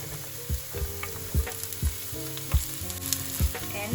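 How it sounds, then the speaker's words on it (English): Ginger sautéing in a pan for lo mein gives a steady sizzle with repeated soft knocks and scrapes of stirring about every half second, close and moderately loud, with no talking. "just saute a little bit. This is very important part of lo mein. Don't skip ginger."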